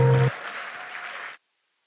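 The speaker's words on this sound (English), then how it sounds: "Let's give them also a round of applause." A round of applause from the audience at a bank's 20th anniversary celebration in Namibia, a short burst of steady clapping that follows a brief musical tone and stops abruptly.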